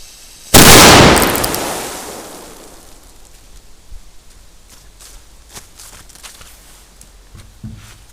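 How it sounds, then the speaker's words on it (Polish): A custom firecracker goes off with one sharp, loud bang that rings out and fades over a couple of seconds, followed by scattered faint crackles and small thuds outdoors at a Halloween firing session. "Pierwszą petardkę, jak odpalimy, będzie petardka wykonana specjalnie na tę okazję"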